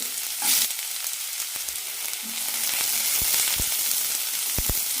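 Two small onions sauté in a tablespoon of oil in a pan, giving a steady, close sizzling hiss with a few soft stirring taps and clicks near the end.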